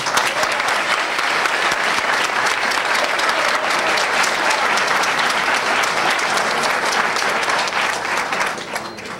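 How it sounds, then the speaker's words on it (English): A large audience applauds at a joint fire school graduation ceremony for new recruits, a loud, sustained round of clapping that continues steadily and tapers slightly at the end. "Let's give another round of applause for these."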